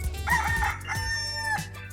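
A rooster crows once in a long, close cock-a-doodle-doo with a rising then held, strained call, heard alone without speech.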